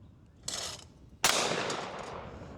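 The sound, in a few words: gunshot from a Yamamoto Pointer Auto shotgun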